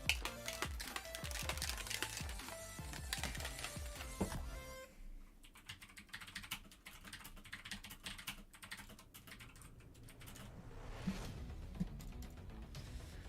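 Fast typing on a computer keyboard: a dense, continuous run of close keystroke clicks, busiest at first, then lighter and sparser, with no talking.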